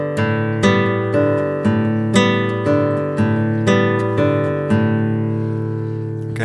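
Flamenco guitar right-hand roll on open strings, bright, ringing strums repeating in a steady, even rhythm about twice a second, each attack letting the strings sustain into the next.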